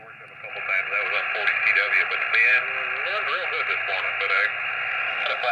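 Loud, hissy receiver audio fills the clip, a distorted voice warbling through heavy static and noise from a Xiegu X6100 ham radio turned all the way up with no filters.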